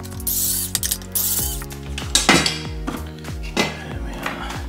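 A ratchet wrench works the battery bolts on a Segway KQI3 scooter, producing close, quick bursts of clicking ratchet strokes in a repeating back-and-forth rhythm, with no talk.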